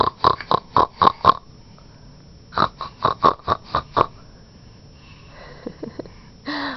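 A person imitates a pig with rapid, rhythmic snorting oinks in two bursts of about five to six grunts each, close and loud, followed by a few softer breathy sounds.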